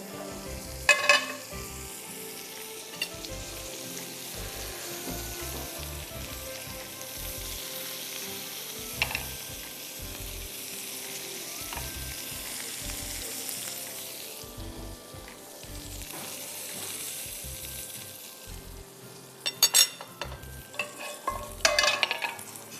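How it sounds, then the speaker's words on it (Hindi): Egg white omelette sizzling in a frying pan, a steady close frying hiss with occasional stirring and scraping clatter, louder utensil knocks near the end; no voices. "दूसरा हम फ्राइंग पैन ले लेंगे और उसमें मैं ऑमलेट बना दूंगी"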